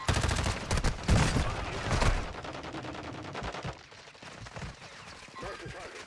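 Gunfire in a first-person shooter, rapid automatic bursts loud and close in the first two seconds, then quieter scattered shots, with a player's voice talking over parts of it.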